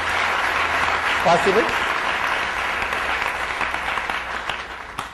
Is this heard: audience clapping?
yes